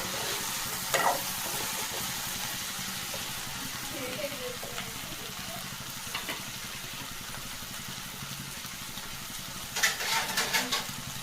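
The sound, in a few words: stirring frying okra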